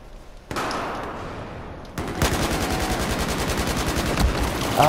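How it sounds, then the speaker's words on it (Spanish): Sustained bursts of rapid automatic gunfire with loud thuds and crackling, growing denser midway, in an intense multiplayer firefight in Battlefield 4. "Hay una balacera brutal, descomunal"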